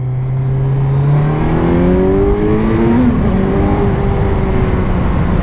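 Kawasaki Z900 motorcycle intake note as the engine is revved, the tone rising and stepping up through several climbs, loud and close with no talk.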